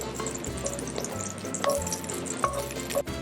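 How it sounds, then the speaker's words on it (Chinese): Crushed garlic cloves sizzle in a little olive oil in a pan, a steady close frying hiss with a few soft pops and light clinks scattered through it, no voices. "刚刚老师呢只是把大蒜呢压碎哦，然后用一点点的这个橄榄油去爆香"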